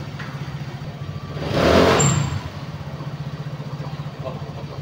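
A motorcycle engine runs steadily after an oil change with diesel engine oil, a close, even idle that swells louder for a moment before settling back; a voice speaks briefly.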